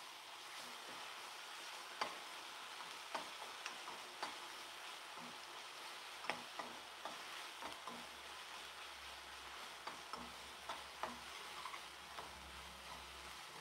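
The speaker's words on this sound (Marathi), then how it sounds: "पेस्ट घालून घेतली, ती सुद्धा मी आता परतून घेते." Masala paste fries in a pan with a faint, continuous sizzle, broken by occasional soft clicks and scrapes of a spoon stirring it, heard quietly with no talking.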